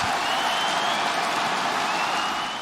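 Crowd at a VCT Valorant esports final in an arena, loud dense cheering and applause roaring steadily from start to finish.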